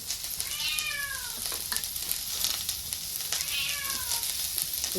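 Onion and spices sizzle in a pan for a dry chicken dish, a steady frying hiss throughout, while a cat meows clearly twice nearby.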